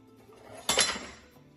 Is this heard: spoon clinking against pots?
yes